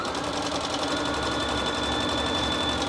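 A sewing machine runs steadily and close, stitching piping and binding onto a quilt with a continuous whirring hum.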